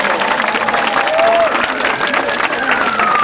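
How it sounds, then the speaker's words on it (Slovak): An audience at a school academy show applauds after a children's song performance, loud sustained clapping with some cheering and a whistle rising above the crowd. "Pořádný potlesk pro cicinky a jejich maminky"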